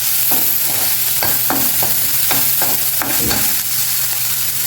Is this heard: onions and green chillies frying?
yes